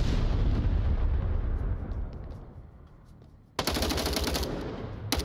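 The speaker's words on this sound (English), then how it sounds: "Grenades flying in from off screen" Grenade blasts and rapid gunfire from an Onward VR match erupt loudly, a dense roar of shots fading over a few seconds before a sharp new burst of fire cuts in and continues.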